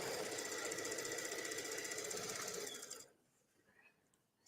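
A sewing machine rapidly stitching elastic onto cotton fabric, a fast even mechanical chatter for about three seconds that stops abruptly, leaving near silence before a brief faint click at the end.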